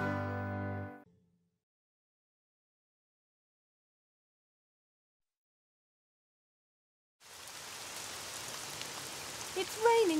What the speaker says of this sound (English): Maybe if we both say, stop raining at the same time, it will stop raining.